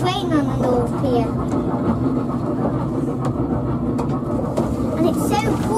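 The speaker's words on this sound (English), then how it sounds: "And we're on a train on the North Pier." A small passenger train runs along Blackpool North Pier with a steady rumbling roll and faint clicks from the track, heard from inside the carriage, while people talk over it.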